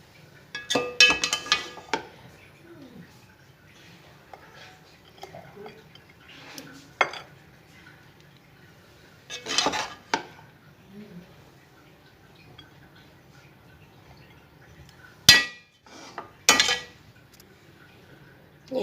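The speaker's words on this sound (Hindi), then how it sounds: "अब इसे हम डिश आउट करते हैं।" A spoon scoops vegetable pulao, Punjabi dhaba style, out of a metal pot, with scattered sharp clinks and scrapes separated by quiet pauses.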